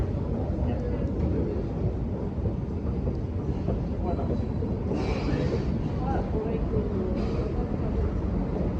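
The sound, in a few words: metro train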